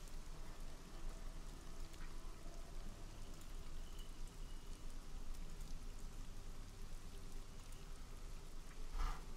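Rain falls steadily on the roof of a barn, a soft continuous wash of drops at a low, even level with no talking.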